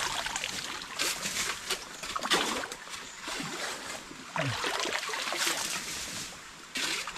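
Water rushes and gurgles into a freshly dug rice paddy irrigation channel, close by in uneven sloshing bursts and trickles with no clear talk.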